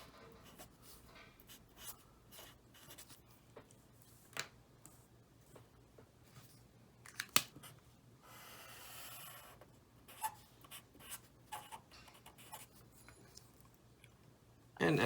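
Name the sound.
writing on the board, sketching a number line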